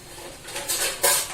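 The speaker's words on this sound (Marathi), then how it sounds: "आतमध्ये मी असं स्टँड ठेवलेलं आहे" A metal stand is set down inside an idli cooker that holds water, giving a few close, quick metallic clanks and scrapes that build to a sharper clink near the end.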